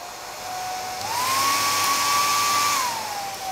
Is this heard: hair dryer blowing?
yes